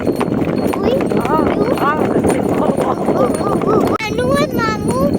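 Horse hooves clip-clop steadily as a horse-drawn cart rolls through a village, close and rhythmic under continuous chatter and children's voices, with a brief whinny-like squeal near the end.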